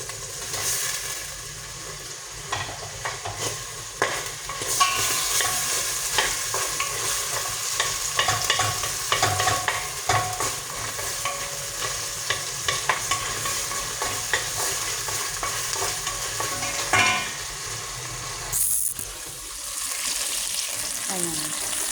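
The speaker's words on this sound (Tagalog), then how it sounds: "Ayan, lagyan natin ng sibuyas." Onions sautéing in hot oil in a pan for pork sinigang, a steady close sizzle with stirring scrapes throughout, fairly loud and continuous with a brief louder burst near the end.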